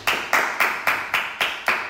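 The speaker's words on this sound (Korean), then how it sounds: "나도 박수 한번 치겠습니다" Seven sharp, evenly spaced hand claps from a single person, loud and close, with no talking over them.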